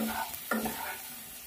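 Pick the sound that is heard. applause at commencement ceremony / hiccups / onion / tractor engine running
onion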